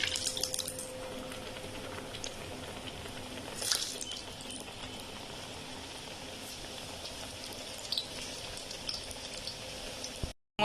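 Potato samosas fry in hot oil with a steady, dense bubbling sizzle that continues evenly at moderate volume, with a couple of faint clinks, and no speech.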